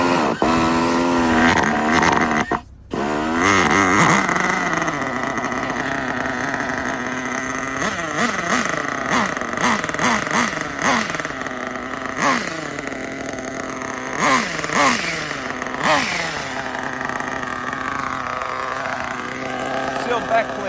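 An RB CE nitro engine with a sealed backplate starts up and runs, a loud buzzing two-stroke whine rising and falling with throttle blips, close by, with someone talking over it.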